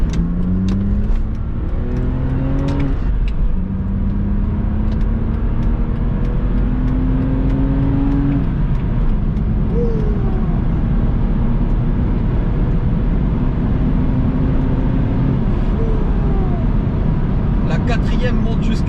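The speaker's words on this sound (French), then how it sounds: "Quatrième monte jusqu'à 5400 tours et là vous entendez vraiment le 6 qui commence à chanter" BMW Z4 E85 roadster with an inline-six engine accelerating while driving, the engine note climbing steadily through the gears with brief dips at shifts, heard close under continuous road and wind noise.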